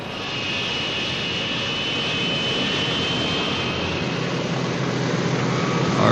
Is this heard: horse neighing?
no